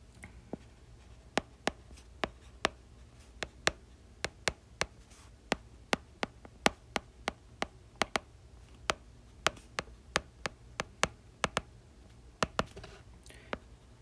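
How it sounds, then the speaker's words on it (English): Pen or marker tapping and scratching as math is written out by hand, a steady series of sharp, close clicks and strokes with no talking, working through a derivative problem. "So let me just write that out clearly."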